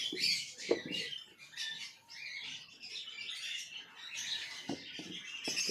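Budgerigars near their wooden breeding boxes chatter in quick, high chirps and squawks, faint and continuous, with no talking.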